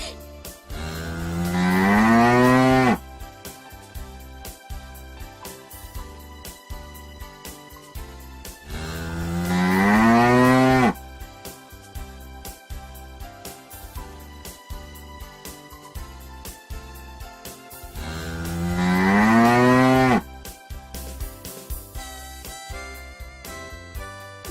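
A cow lets out three long, drawn-out moos spaced several seconds apart, each rising and falling in pitch, heard clearly over soft background music.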